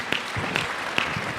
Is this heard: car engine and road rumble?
no